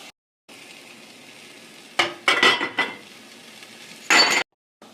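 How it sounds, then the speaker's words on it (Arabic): Onion, garlic and ginger fry with whole spices in ghee for Kabuli rice, a steady close sizzle broken by several sharp scrapes and clinks of a utensil against the pot. "نحط البصل، نحط الثوم والزنجبيل، خليه ينحمس مع البصل"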